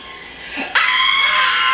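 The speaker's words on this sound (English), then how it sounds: "The scream!" A loud, sudden scream bursts out during a staged cheating prank and holds as a sustained high shriek, preceded by a brief low vocal sound.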